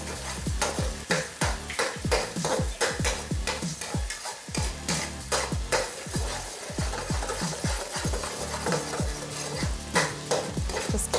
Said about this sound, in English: Take your spoon, scramble it up in there.